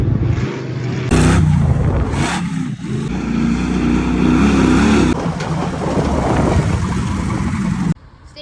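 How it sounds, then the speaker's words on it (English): A 1979 Ford F100 prerunner truck with full hydraulic steering tears through sand dunes, its engine roaring and revving loudly and close, surging and easing in bursts before cutting off abruptly. "Throw a couple clips in of the truck out in the dunes."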